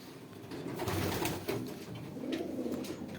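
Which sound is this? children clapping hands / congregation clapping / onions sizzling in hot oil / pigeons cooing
pigeons cooing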